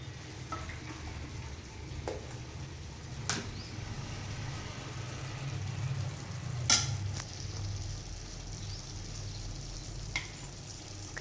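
Pepper chicken cooks in a pan with a steady, gentle sizzle and frying hiss, broken by occasional clinks and scrapes of stirring, fairly quiet and close with no talk.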